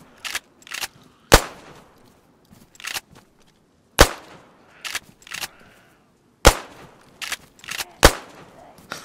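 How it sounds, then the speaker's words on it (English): Gunshots in the DayZ video game ring out as sharp, loud cracks in irregular bursts, some single, some in quick pairs, over a quiet background. "Oh, such a loud shot."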